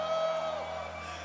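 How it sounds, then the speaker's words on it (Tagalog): A church congregation shouts and whoops together at a worship service, a loud sustained crowd roar lasting about a second. "Isa pa pong malakas sa sigaw."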